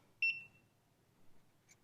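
A timer beeps once, sharp and close, while coffee brews in a Clever Dripper, followed by a quieter short blip near the end over faint background noise.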